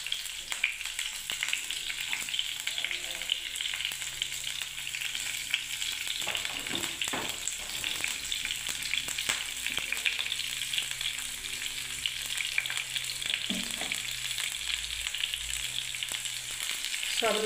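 Chopped chillies and nigella seeds fry in hot mustard oil with a steady, close sizzle and crackle throughout, broken by occasional utensil scrapes and stirring clatter.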